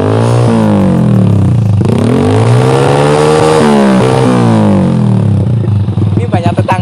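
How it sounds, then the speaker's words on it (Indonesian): A Honda Supra motorcycle fitted with a Kowu exhaust revs loud and close, its engine pitch rising and falling in repeated swells before settling toward idle. "sekarang kita mau coba suara dari knalpot Kowu Mahacai ini guys di motor Supra"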